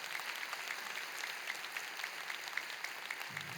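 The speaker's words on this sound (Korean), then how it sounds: "박수하겠습니다" Applause fills a Korean church service marking the March 1st Movement anniversary, with even, dense clapping from a crowd heard at a moderate distance and running steadily throughout.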